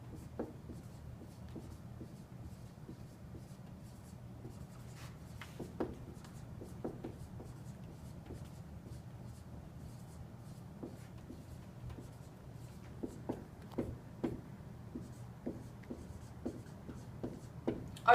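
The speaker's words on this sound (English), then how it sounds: "I'm going to take a second to write this here." Pen writing on paper, heard alone as soft continuous scratching strokes with small taps and clicks. The writing quickens into a denser run of ticks toward the end.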